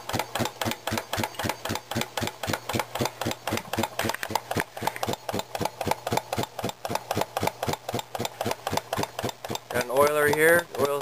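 Antique circa 1900 Brunner air compressor running with a steady, rapid mechanical chugging of its piston and crank, close and loud, with a brief voice near the end.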